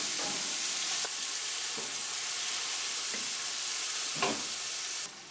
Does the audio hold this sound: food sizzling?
yes